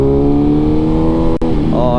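Sustained loud engine drone from a BMW S1000RR motorcycle while riding, steady harmonic tones with a brief dip near the end before the pitch climbs again as it revs.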